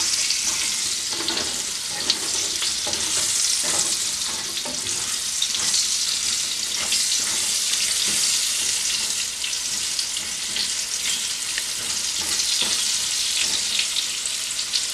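Potato pieces frying red in hot oil in a pan while cooking an egg curry (dim er dalna), a steady, close crackling sizzle with occasional stirring scrapes, continuous throughout with no talk.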